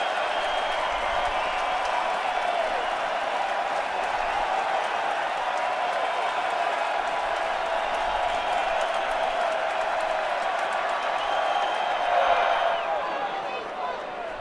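A crowd at an Orioles postseason baseball game against the Yankees roars and applauds in a sustained, dense wash of cheering that swells briefly near the end, with an announcer talking over it.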